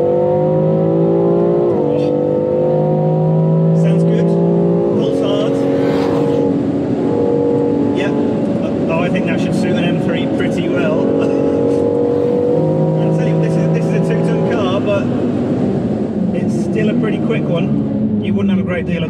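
The BMW X3 M / X4 M engine accelerates hard through gears of its 8-speed automatic, rising revving tones stepping up with each shift, loud and close, with a voice talking over the engine.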